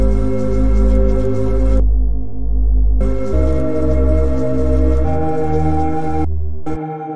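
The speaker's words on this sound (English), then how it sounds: "I got a bass sound. This is what it sounds like." A deep, buzzy synth bass made from a looped Fortnite game sound sample plays a looping pattern of sustained notes, shifting pitch every second or two, with brief gaps of near silence.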